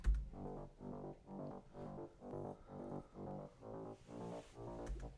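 A distorted rolling bass line from an electronic dance track, with chopped notes pulsing in a steady repeating pattern of short throbbing hits, alone and fairly quiet.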